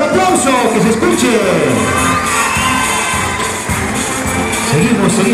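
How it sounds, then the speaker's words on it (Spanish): Students at a school civic assembly celebrating the school's anniversary cheer and shout as a dense, continuous crowd roar, with children's yells and whoops rising over sustained noise throughout. "¡El aplauso, el aplauso, el aplauso! ¡Que se escuche!"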